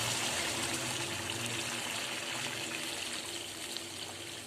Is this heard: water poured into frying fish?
yes